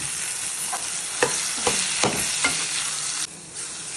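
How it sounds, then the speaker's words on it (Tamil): Elephant foot yam frying with curry leaves, onion and tomato: a soft continuous sizzle with a handful of distinct stirring scrapes spaced about half a second apart, near and alone, easing off toward the end. "கருவேப்பிலை, வெங்காயம், தக்காளி நல்லா வதக்கிட்டு கருணக்கிழங்கு எடுத்து போடணும்"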